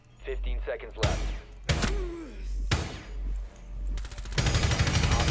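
Rainbow Six Siege gunfire with several loud, sharp bursts of rapid shots and a closing stretch of sustained automatic fire, over in-game ambience, with a player talking between some of the bursts.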